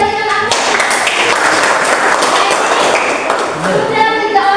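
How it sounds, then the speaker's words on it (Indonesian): Clapping from a classroom group during a teacher's lesson, a steady dense patter of many hands applauding for several seconds at close range, with some voices underneath. "Ya, kita berikan aplaus."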